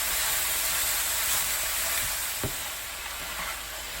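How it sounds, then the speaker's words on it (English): Vegetables for chicken pasta cooking in a pan, a steady broadband sizzle and hiss running throughout with one brief soft knock partway through. "Now we're going to cook the vegetables for 3 minutes."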